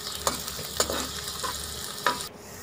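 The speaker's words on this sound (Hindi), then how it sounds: "कढ़ाई के अंदर घी डाल देना है थोड़ा सा। इसमें जो प्याज आपको दिखाए थे वो डालने हैं" About half a cup of onions frying in a little ghee in a kadai, with a continuous close sizzle broken by several sharp spoon strokes and stirring scrapes.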